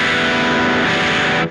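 An electric guitar through a Hiero Effects Heretic Fuzz pedal gives a thick, saturated, sustaining fuzz tone, held loud and steady before cutting off sharply at the end.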